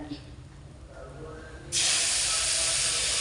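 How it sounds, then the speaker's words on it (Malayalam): Tamarind water hits a hot pan for a fish curry with vala fish, bursting into a loud, steady sizzling hiss that starts abruptly and keeps going after a quieter stretch of kitchen background. "പുളിവെള്ളമാണ് ഒഴിക്കുന്നത്"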